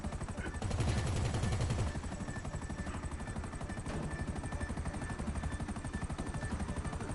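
Helicopter in the game GTA Online, a steady rotor chop and engine hum throughout, with a heavier burst early on.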